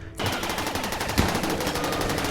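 Gunfire rattles in the video game Rimworld, a dense burst of rapid automatic shots that starts abruptly and keeps going steadily at close range, with no talk over it.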